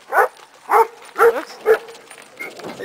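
A dog barks outdoors in four evenly spaced, fairly loud barks, followed by softer faint sounds.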